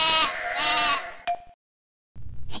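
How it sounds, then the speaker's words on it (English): Two cartoonish sheep bleats from the PC game Sesame Street: Baby & Me, bright and close, followed by a short chime-like tone, a pause of silence, then a soft low thump. "Oh, that's a cute sheep."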